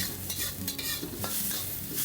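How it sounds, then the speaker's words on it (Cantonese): Minced meat dropped into a hot pot for oyster congee, sizzling steadily while a utensil stirs and scrapes against the metal, with a few sharp clatters; close and continuous, no talking. "依家就放入啲肉碎。"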